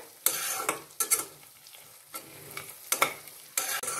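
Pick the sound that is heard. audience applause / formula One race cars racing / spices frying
spices frying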